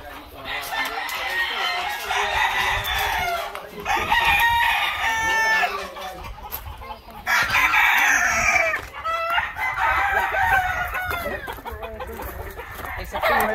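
Fighting roosters in a cockfighting gallery crow repeatedly and loudly, in long overlapping calls with clucks between them, heard close against a noisy crowd with people talking.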